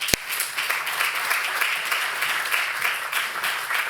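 Applause at a Spanish economics forum as a guest economist is welcomed, steady broad clapping from a seated crowd that carries loud and even for several seconds after one sharp opening clap.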